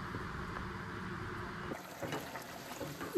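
Water pours into a pot of simmering meat for shaljam gosht, a soft gushing trickle that shifts partway through to bubbling and sizzling, close and quiet.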